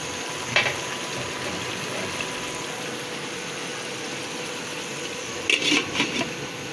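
Food simmering in a covered pot on the stove gives a steady, continuous bubbling hiss, with a few brief clinks near the start and again toward the end.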